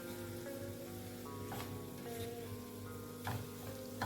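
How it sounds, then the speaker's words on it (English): Beef frying in a pot with seasoning cubes, salt and curry powder, a steady close sizzle with occasional stirring scrapes and pops, faint and continuous. "The water has dried up and we are frying the beef now"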